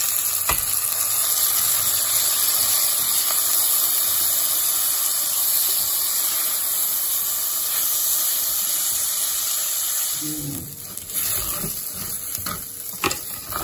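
Rice tipped into hot oil with golden, browning garlic for a pilaf gives a loud, steady sizzle that fills the whole stretch, then breaks into uneven crackles and stirring bursts near the end.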